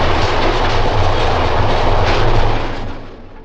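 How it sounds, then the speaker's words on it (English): A 1929 South Shore interurban railway coach rolls along on an excursion run through northern Indiana, giving a steady, loud rumble with clickety-clack from the wheels, close by and with no talk. "The 1929 coaches make all the right noises."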